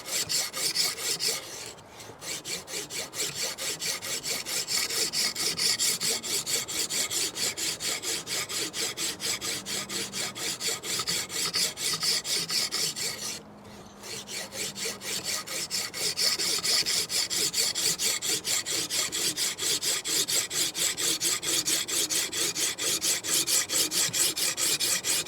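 Knife blade drawn repeatedly along the stone of a KMFS Vantaedge sharpener, working the full length of the edge; a dense, continuous rasping scrape with fast strokes, close and steady, pausing briefly twice.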